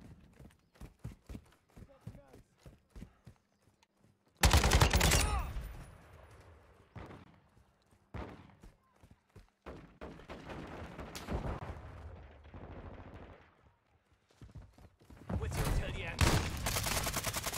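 Shotgun blasts and other gunfire in an online shooter video game, loud sudden bursts and rattling volleys that come and go over several seconds, with players talking in between.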